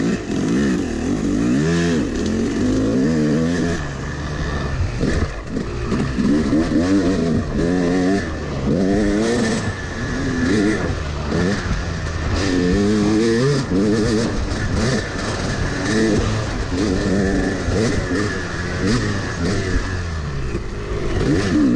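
A Yamaha YZ 250 two-stroke dirt bike rides a lap over wet logs in freezing conditions, its engine loud and close throughout, revving up and down continuously with rapid throttle changes and mechanical clatter.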